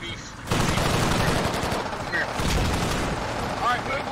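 Sustained gunfire in the tactical shooter Squad, a dense rattle of rapid automatic shots and bursts, loud and close, with a voice speaking partly underneath.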